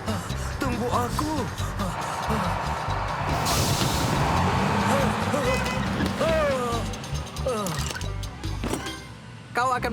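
A short burst of air-brake hiss from a cartoon bus, heard around the middle under busy cartoon voices and background sound.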